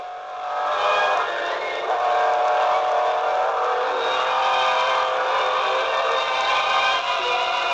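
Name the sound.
NSU racing motorcycle engine at speed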